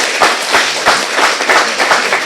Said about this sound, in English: Let's send the 3 presenters away with another round of applause.